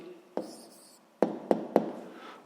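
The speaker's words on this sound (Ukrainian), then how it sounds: "зараз записуємо відповідь, пишемо відповідь" A pen on paper writes out the answer to a sixth-grade maths exercise, giving a few short, sharp scratches and taps in quick succession, close and clear in a quiet room with no talk.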